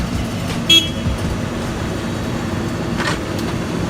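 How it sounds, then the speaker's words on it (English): Traffic and roadworks outside a studio give a steady road rumble with passing vehicles, a brief car horn toot early on and a few faint clanks over the continuous din. "It's total roadworks going on outside, so if you hear any noise"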